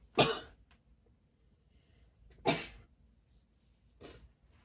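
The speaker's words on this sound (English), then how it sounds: "I'm gonna sneeze" Three abrupt, breathy bursts sound close by, sneezes separated by short pauses, the last one softer.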